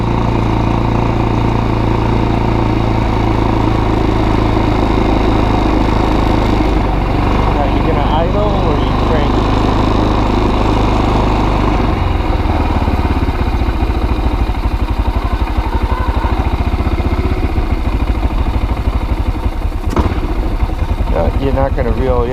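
A Kazuma Jaguar 500 4x4 ATV engine runs loud and steady close by, a rough idle with a constant low rumble that keeps on throughout, while someone talks over it.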